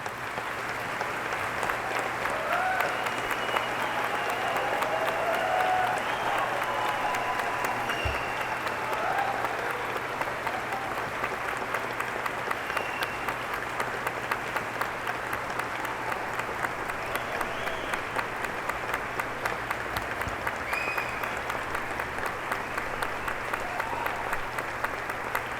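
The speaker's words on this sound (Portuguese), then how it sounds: "para que recebam os aplausos da mesa de honra e do público presente" Sustained applause fills a ceremony hall as the honour table and audience clap for newly confirmed public prosecutors standing at a formal induction event in a university's grand hall; steady dense clapping throughout, loud and continuous.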